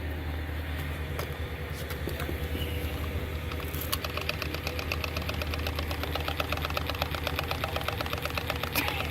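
A grinder runs off a small power converter at the roadside in cold weather, giving a steady, continuous low mechanical drone with a fine rapid ticking that rises slightly toward the end, close and without voices.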